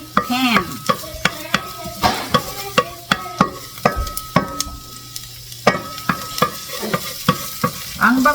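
Green beans and spices frying in olive oil in a pan, with steady close sizzling broken by repeated sharp scrapes and knocks of a utensil stirring against the pan.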